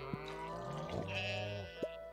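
Goats on a farm in Stardew Valley, bleating in a couple of wavering cries close by, with short tapping blips at the start and end.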